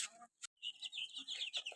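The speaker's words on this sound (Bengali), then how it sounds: "এই গলাচিলা মুরগির বাচ্চা" Naked-neck hill chicken chicks give a run of high, thin cheeps, faint and close, broken by a short pause early on.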